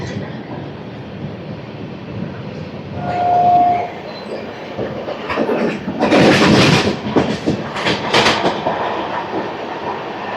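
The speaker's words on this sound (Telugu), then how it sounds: "మనకు ఆపోజిట్లో ఒక ట్రైన్ అయితే వస్తుంది" Seen from a moving Venkatadri Superfast Express, a goods train passes the other way, its loud rushing roar and rhythmic clatter swelling up close over the steady rumble of the carriage, with a brief horn tone early on.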